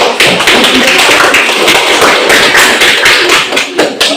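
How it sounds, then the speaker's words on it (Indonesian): An audience claps for two debate teams, dense and energetic applause close by filling the whole span without pause. "kita berikan aplaus kepada yang meriah kepada kedua tim"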